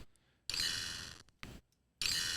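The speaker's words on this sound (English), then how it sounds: "This bit crushed bell. I like it a lot." In a lofi music production, a bit-crushed bell sample rings three times, each strike a bright, gritty, digitally degraded tone. The first and last rings sustain, the middle one is clipped short, with near-silent gaps between.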